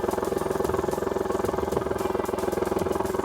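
Boat outboard engine running steadily at idle while being flushed with Salt Away after saltwater use, a close, even, rhythmic putter alone with no talk.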